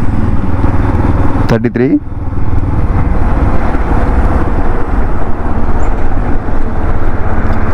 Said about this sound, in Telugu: 5th గేర్లో మనము ఏ స్పీడ్ దాకా వెళ్తే బండి వైబ్రేషన్ లేకుండా చూద్దాం.